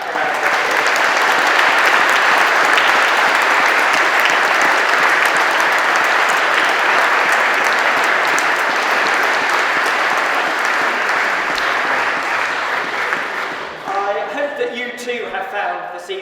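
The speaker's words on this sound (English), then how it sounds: "Could you just give them all a round of applause?" An audience in a church hall gives general election hustings candidates sustained, loud applause that holds steady for over ten seconds before tapering off as a voice begins speaking.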